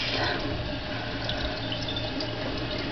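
Makeup brush rinsed under a running tap, a soft continuous splash of water into a sink for a few seconds with no voices.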